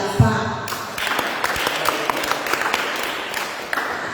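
Applause from a church gathering breaks out after a brief voice and carries on as a dense patter of clapping hands that stays fairly loud to the end.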